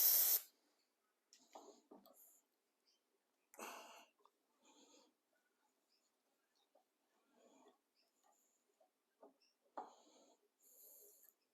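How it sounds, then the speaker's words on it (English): Rust buster penetrating spray hisses from an aerosol can onto an old 1960s British Seagull outboard motor, in several short separate bursts with quiet gaps between them, close to the microphone. "Let's spray a bit of that in there."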